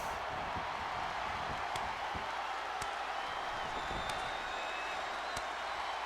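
Wrestling arena crowd noise from the WWE 2K20 video game: a steady, loud roar of cheering spectators with scattered sharp impact hits from the match, no commentary over it.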